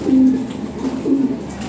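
A pair of pigeons coo close by, two low throaty cooing phrases a second apart, loud and clear with no talking.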